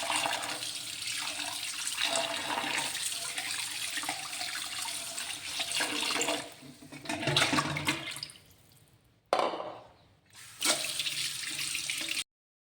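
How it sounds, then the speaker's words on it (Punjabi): Tap water runs in a strong, continuous gush over fresh homemade paneer to rinse it, then stops and restarts in two short bursts. "ਕਿਸੇ ਟੂਟੀ ਦਾ ਪਾਣੀ ਵੀ ਪਾ ਸਕਦੇ ਹੋ ਕਿ ਇਹਦੇ ਵਿੱਚ ਠੰਡਾ ਪਾਣੀ ਵੀ ਪਾ ਸਕਦੇ ਹੋ"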